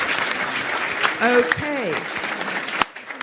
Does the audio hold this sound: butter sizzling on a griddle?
no